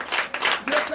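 Church congregation clapping in acclamation at a Sunday worship service in Comè, Benin, bursts of applause rising and falling in waves close by, with voices mixed in.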